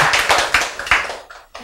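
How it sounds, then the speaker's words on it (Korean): A church congregation claps briefly in a quick run of sharp, close hand claps that thin out and stop within under two seconds. "박수!"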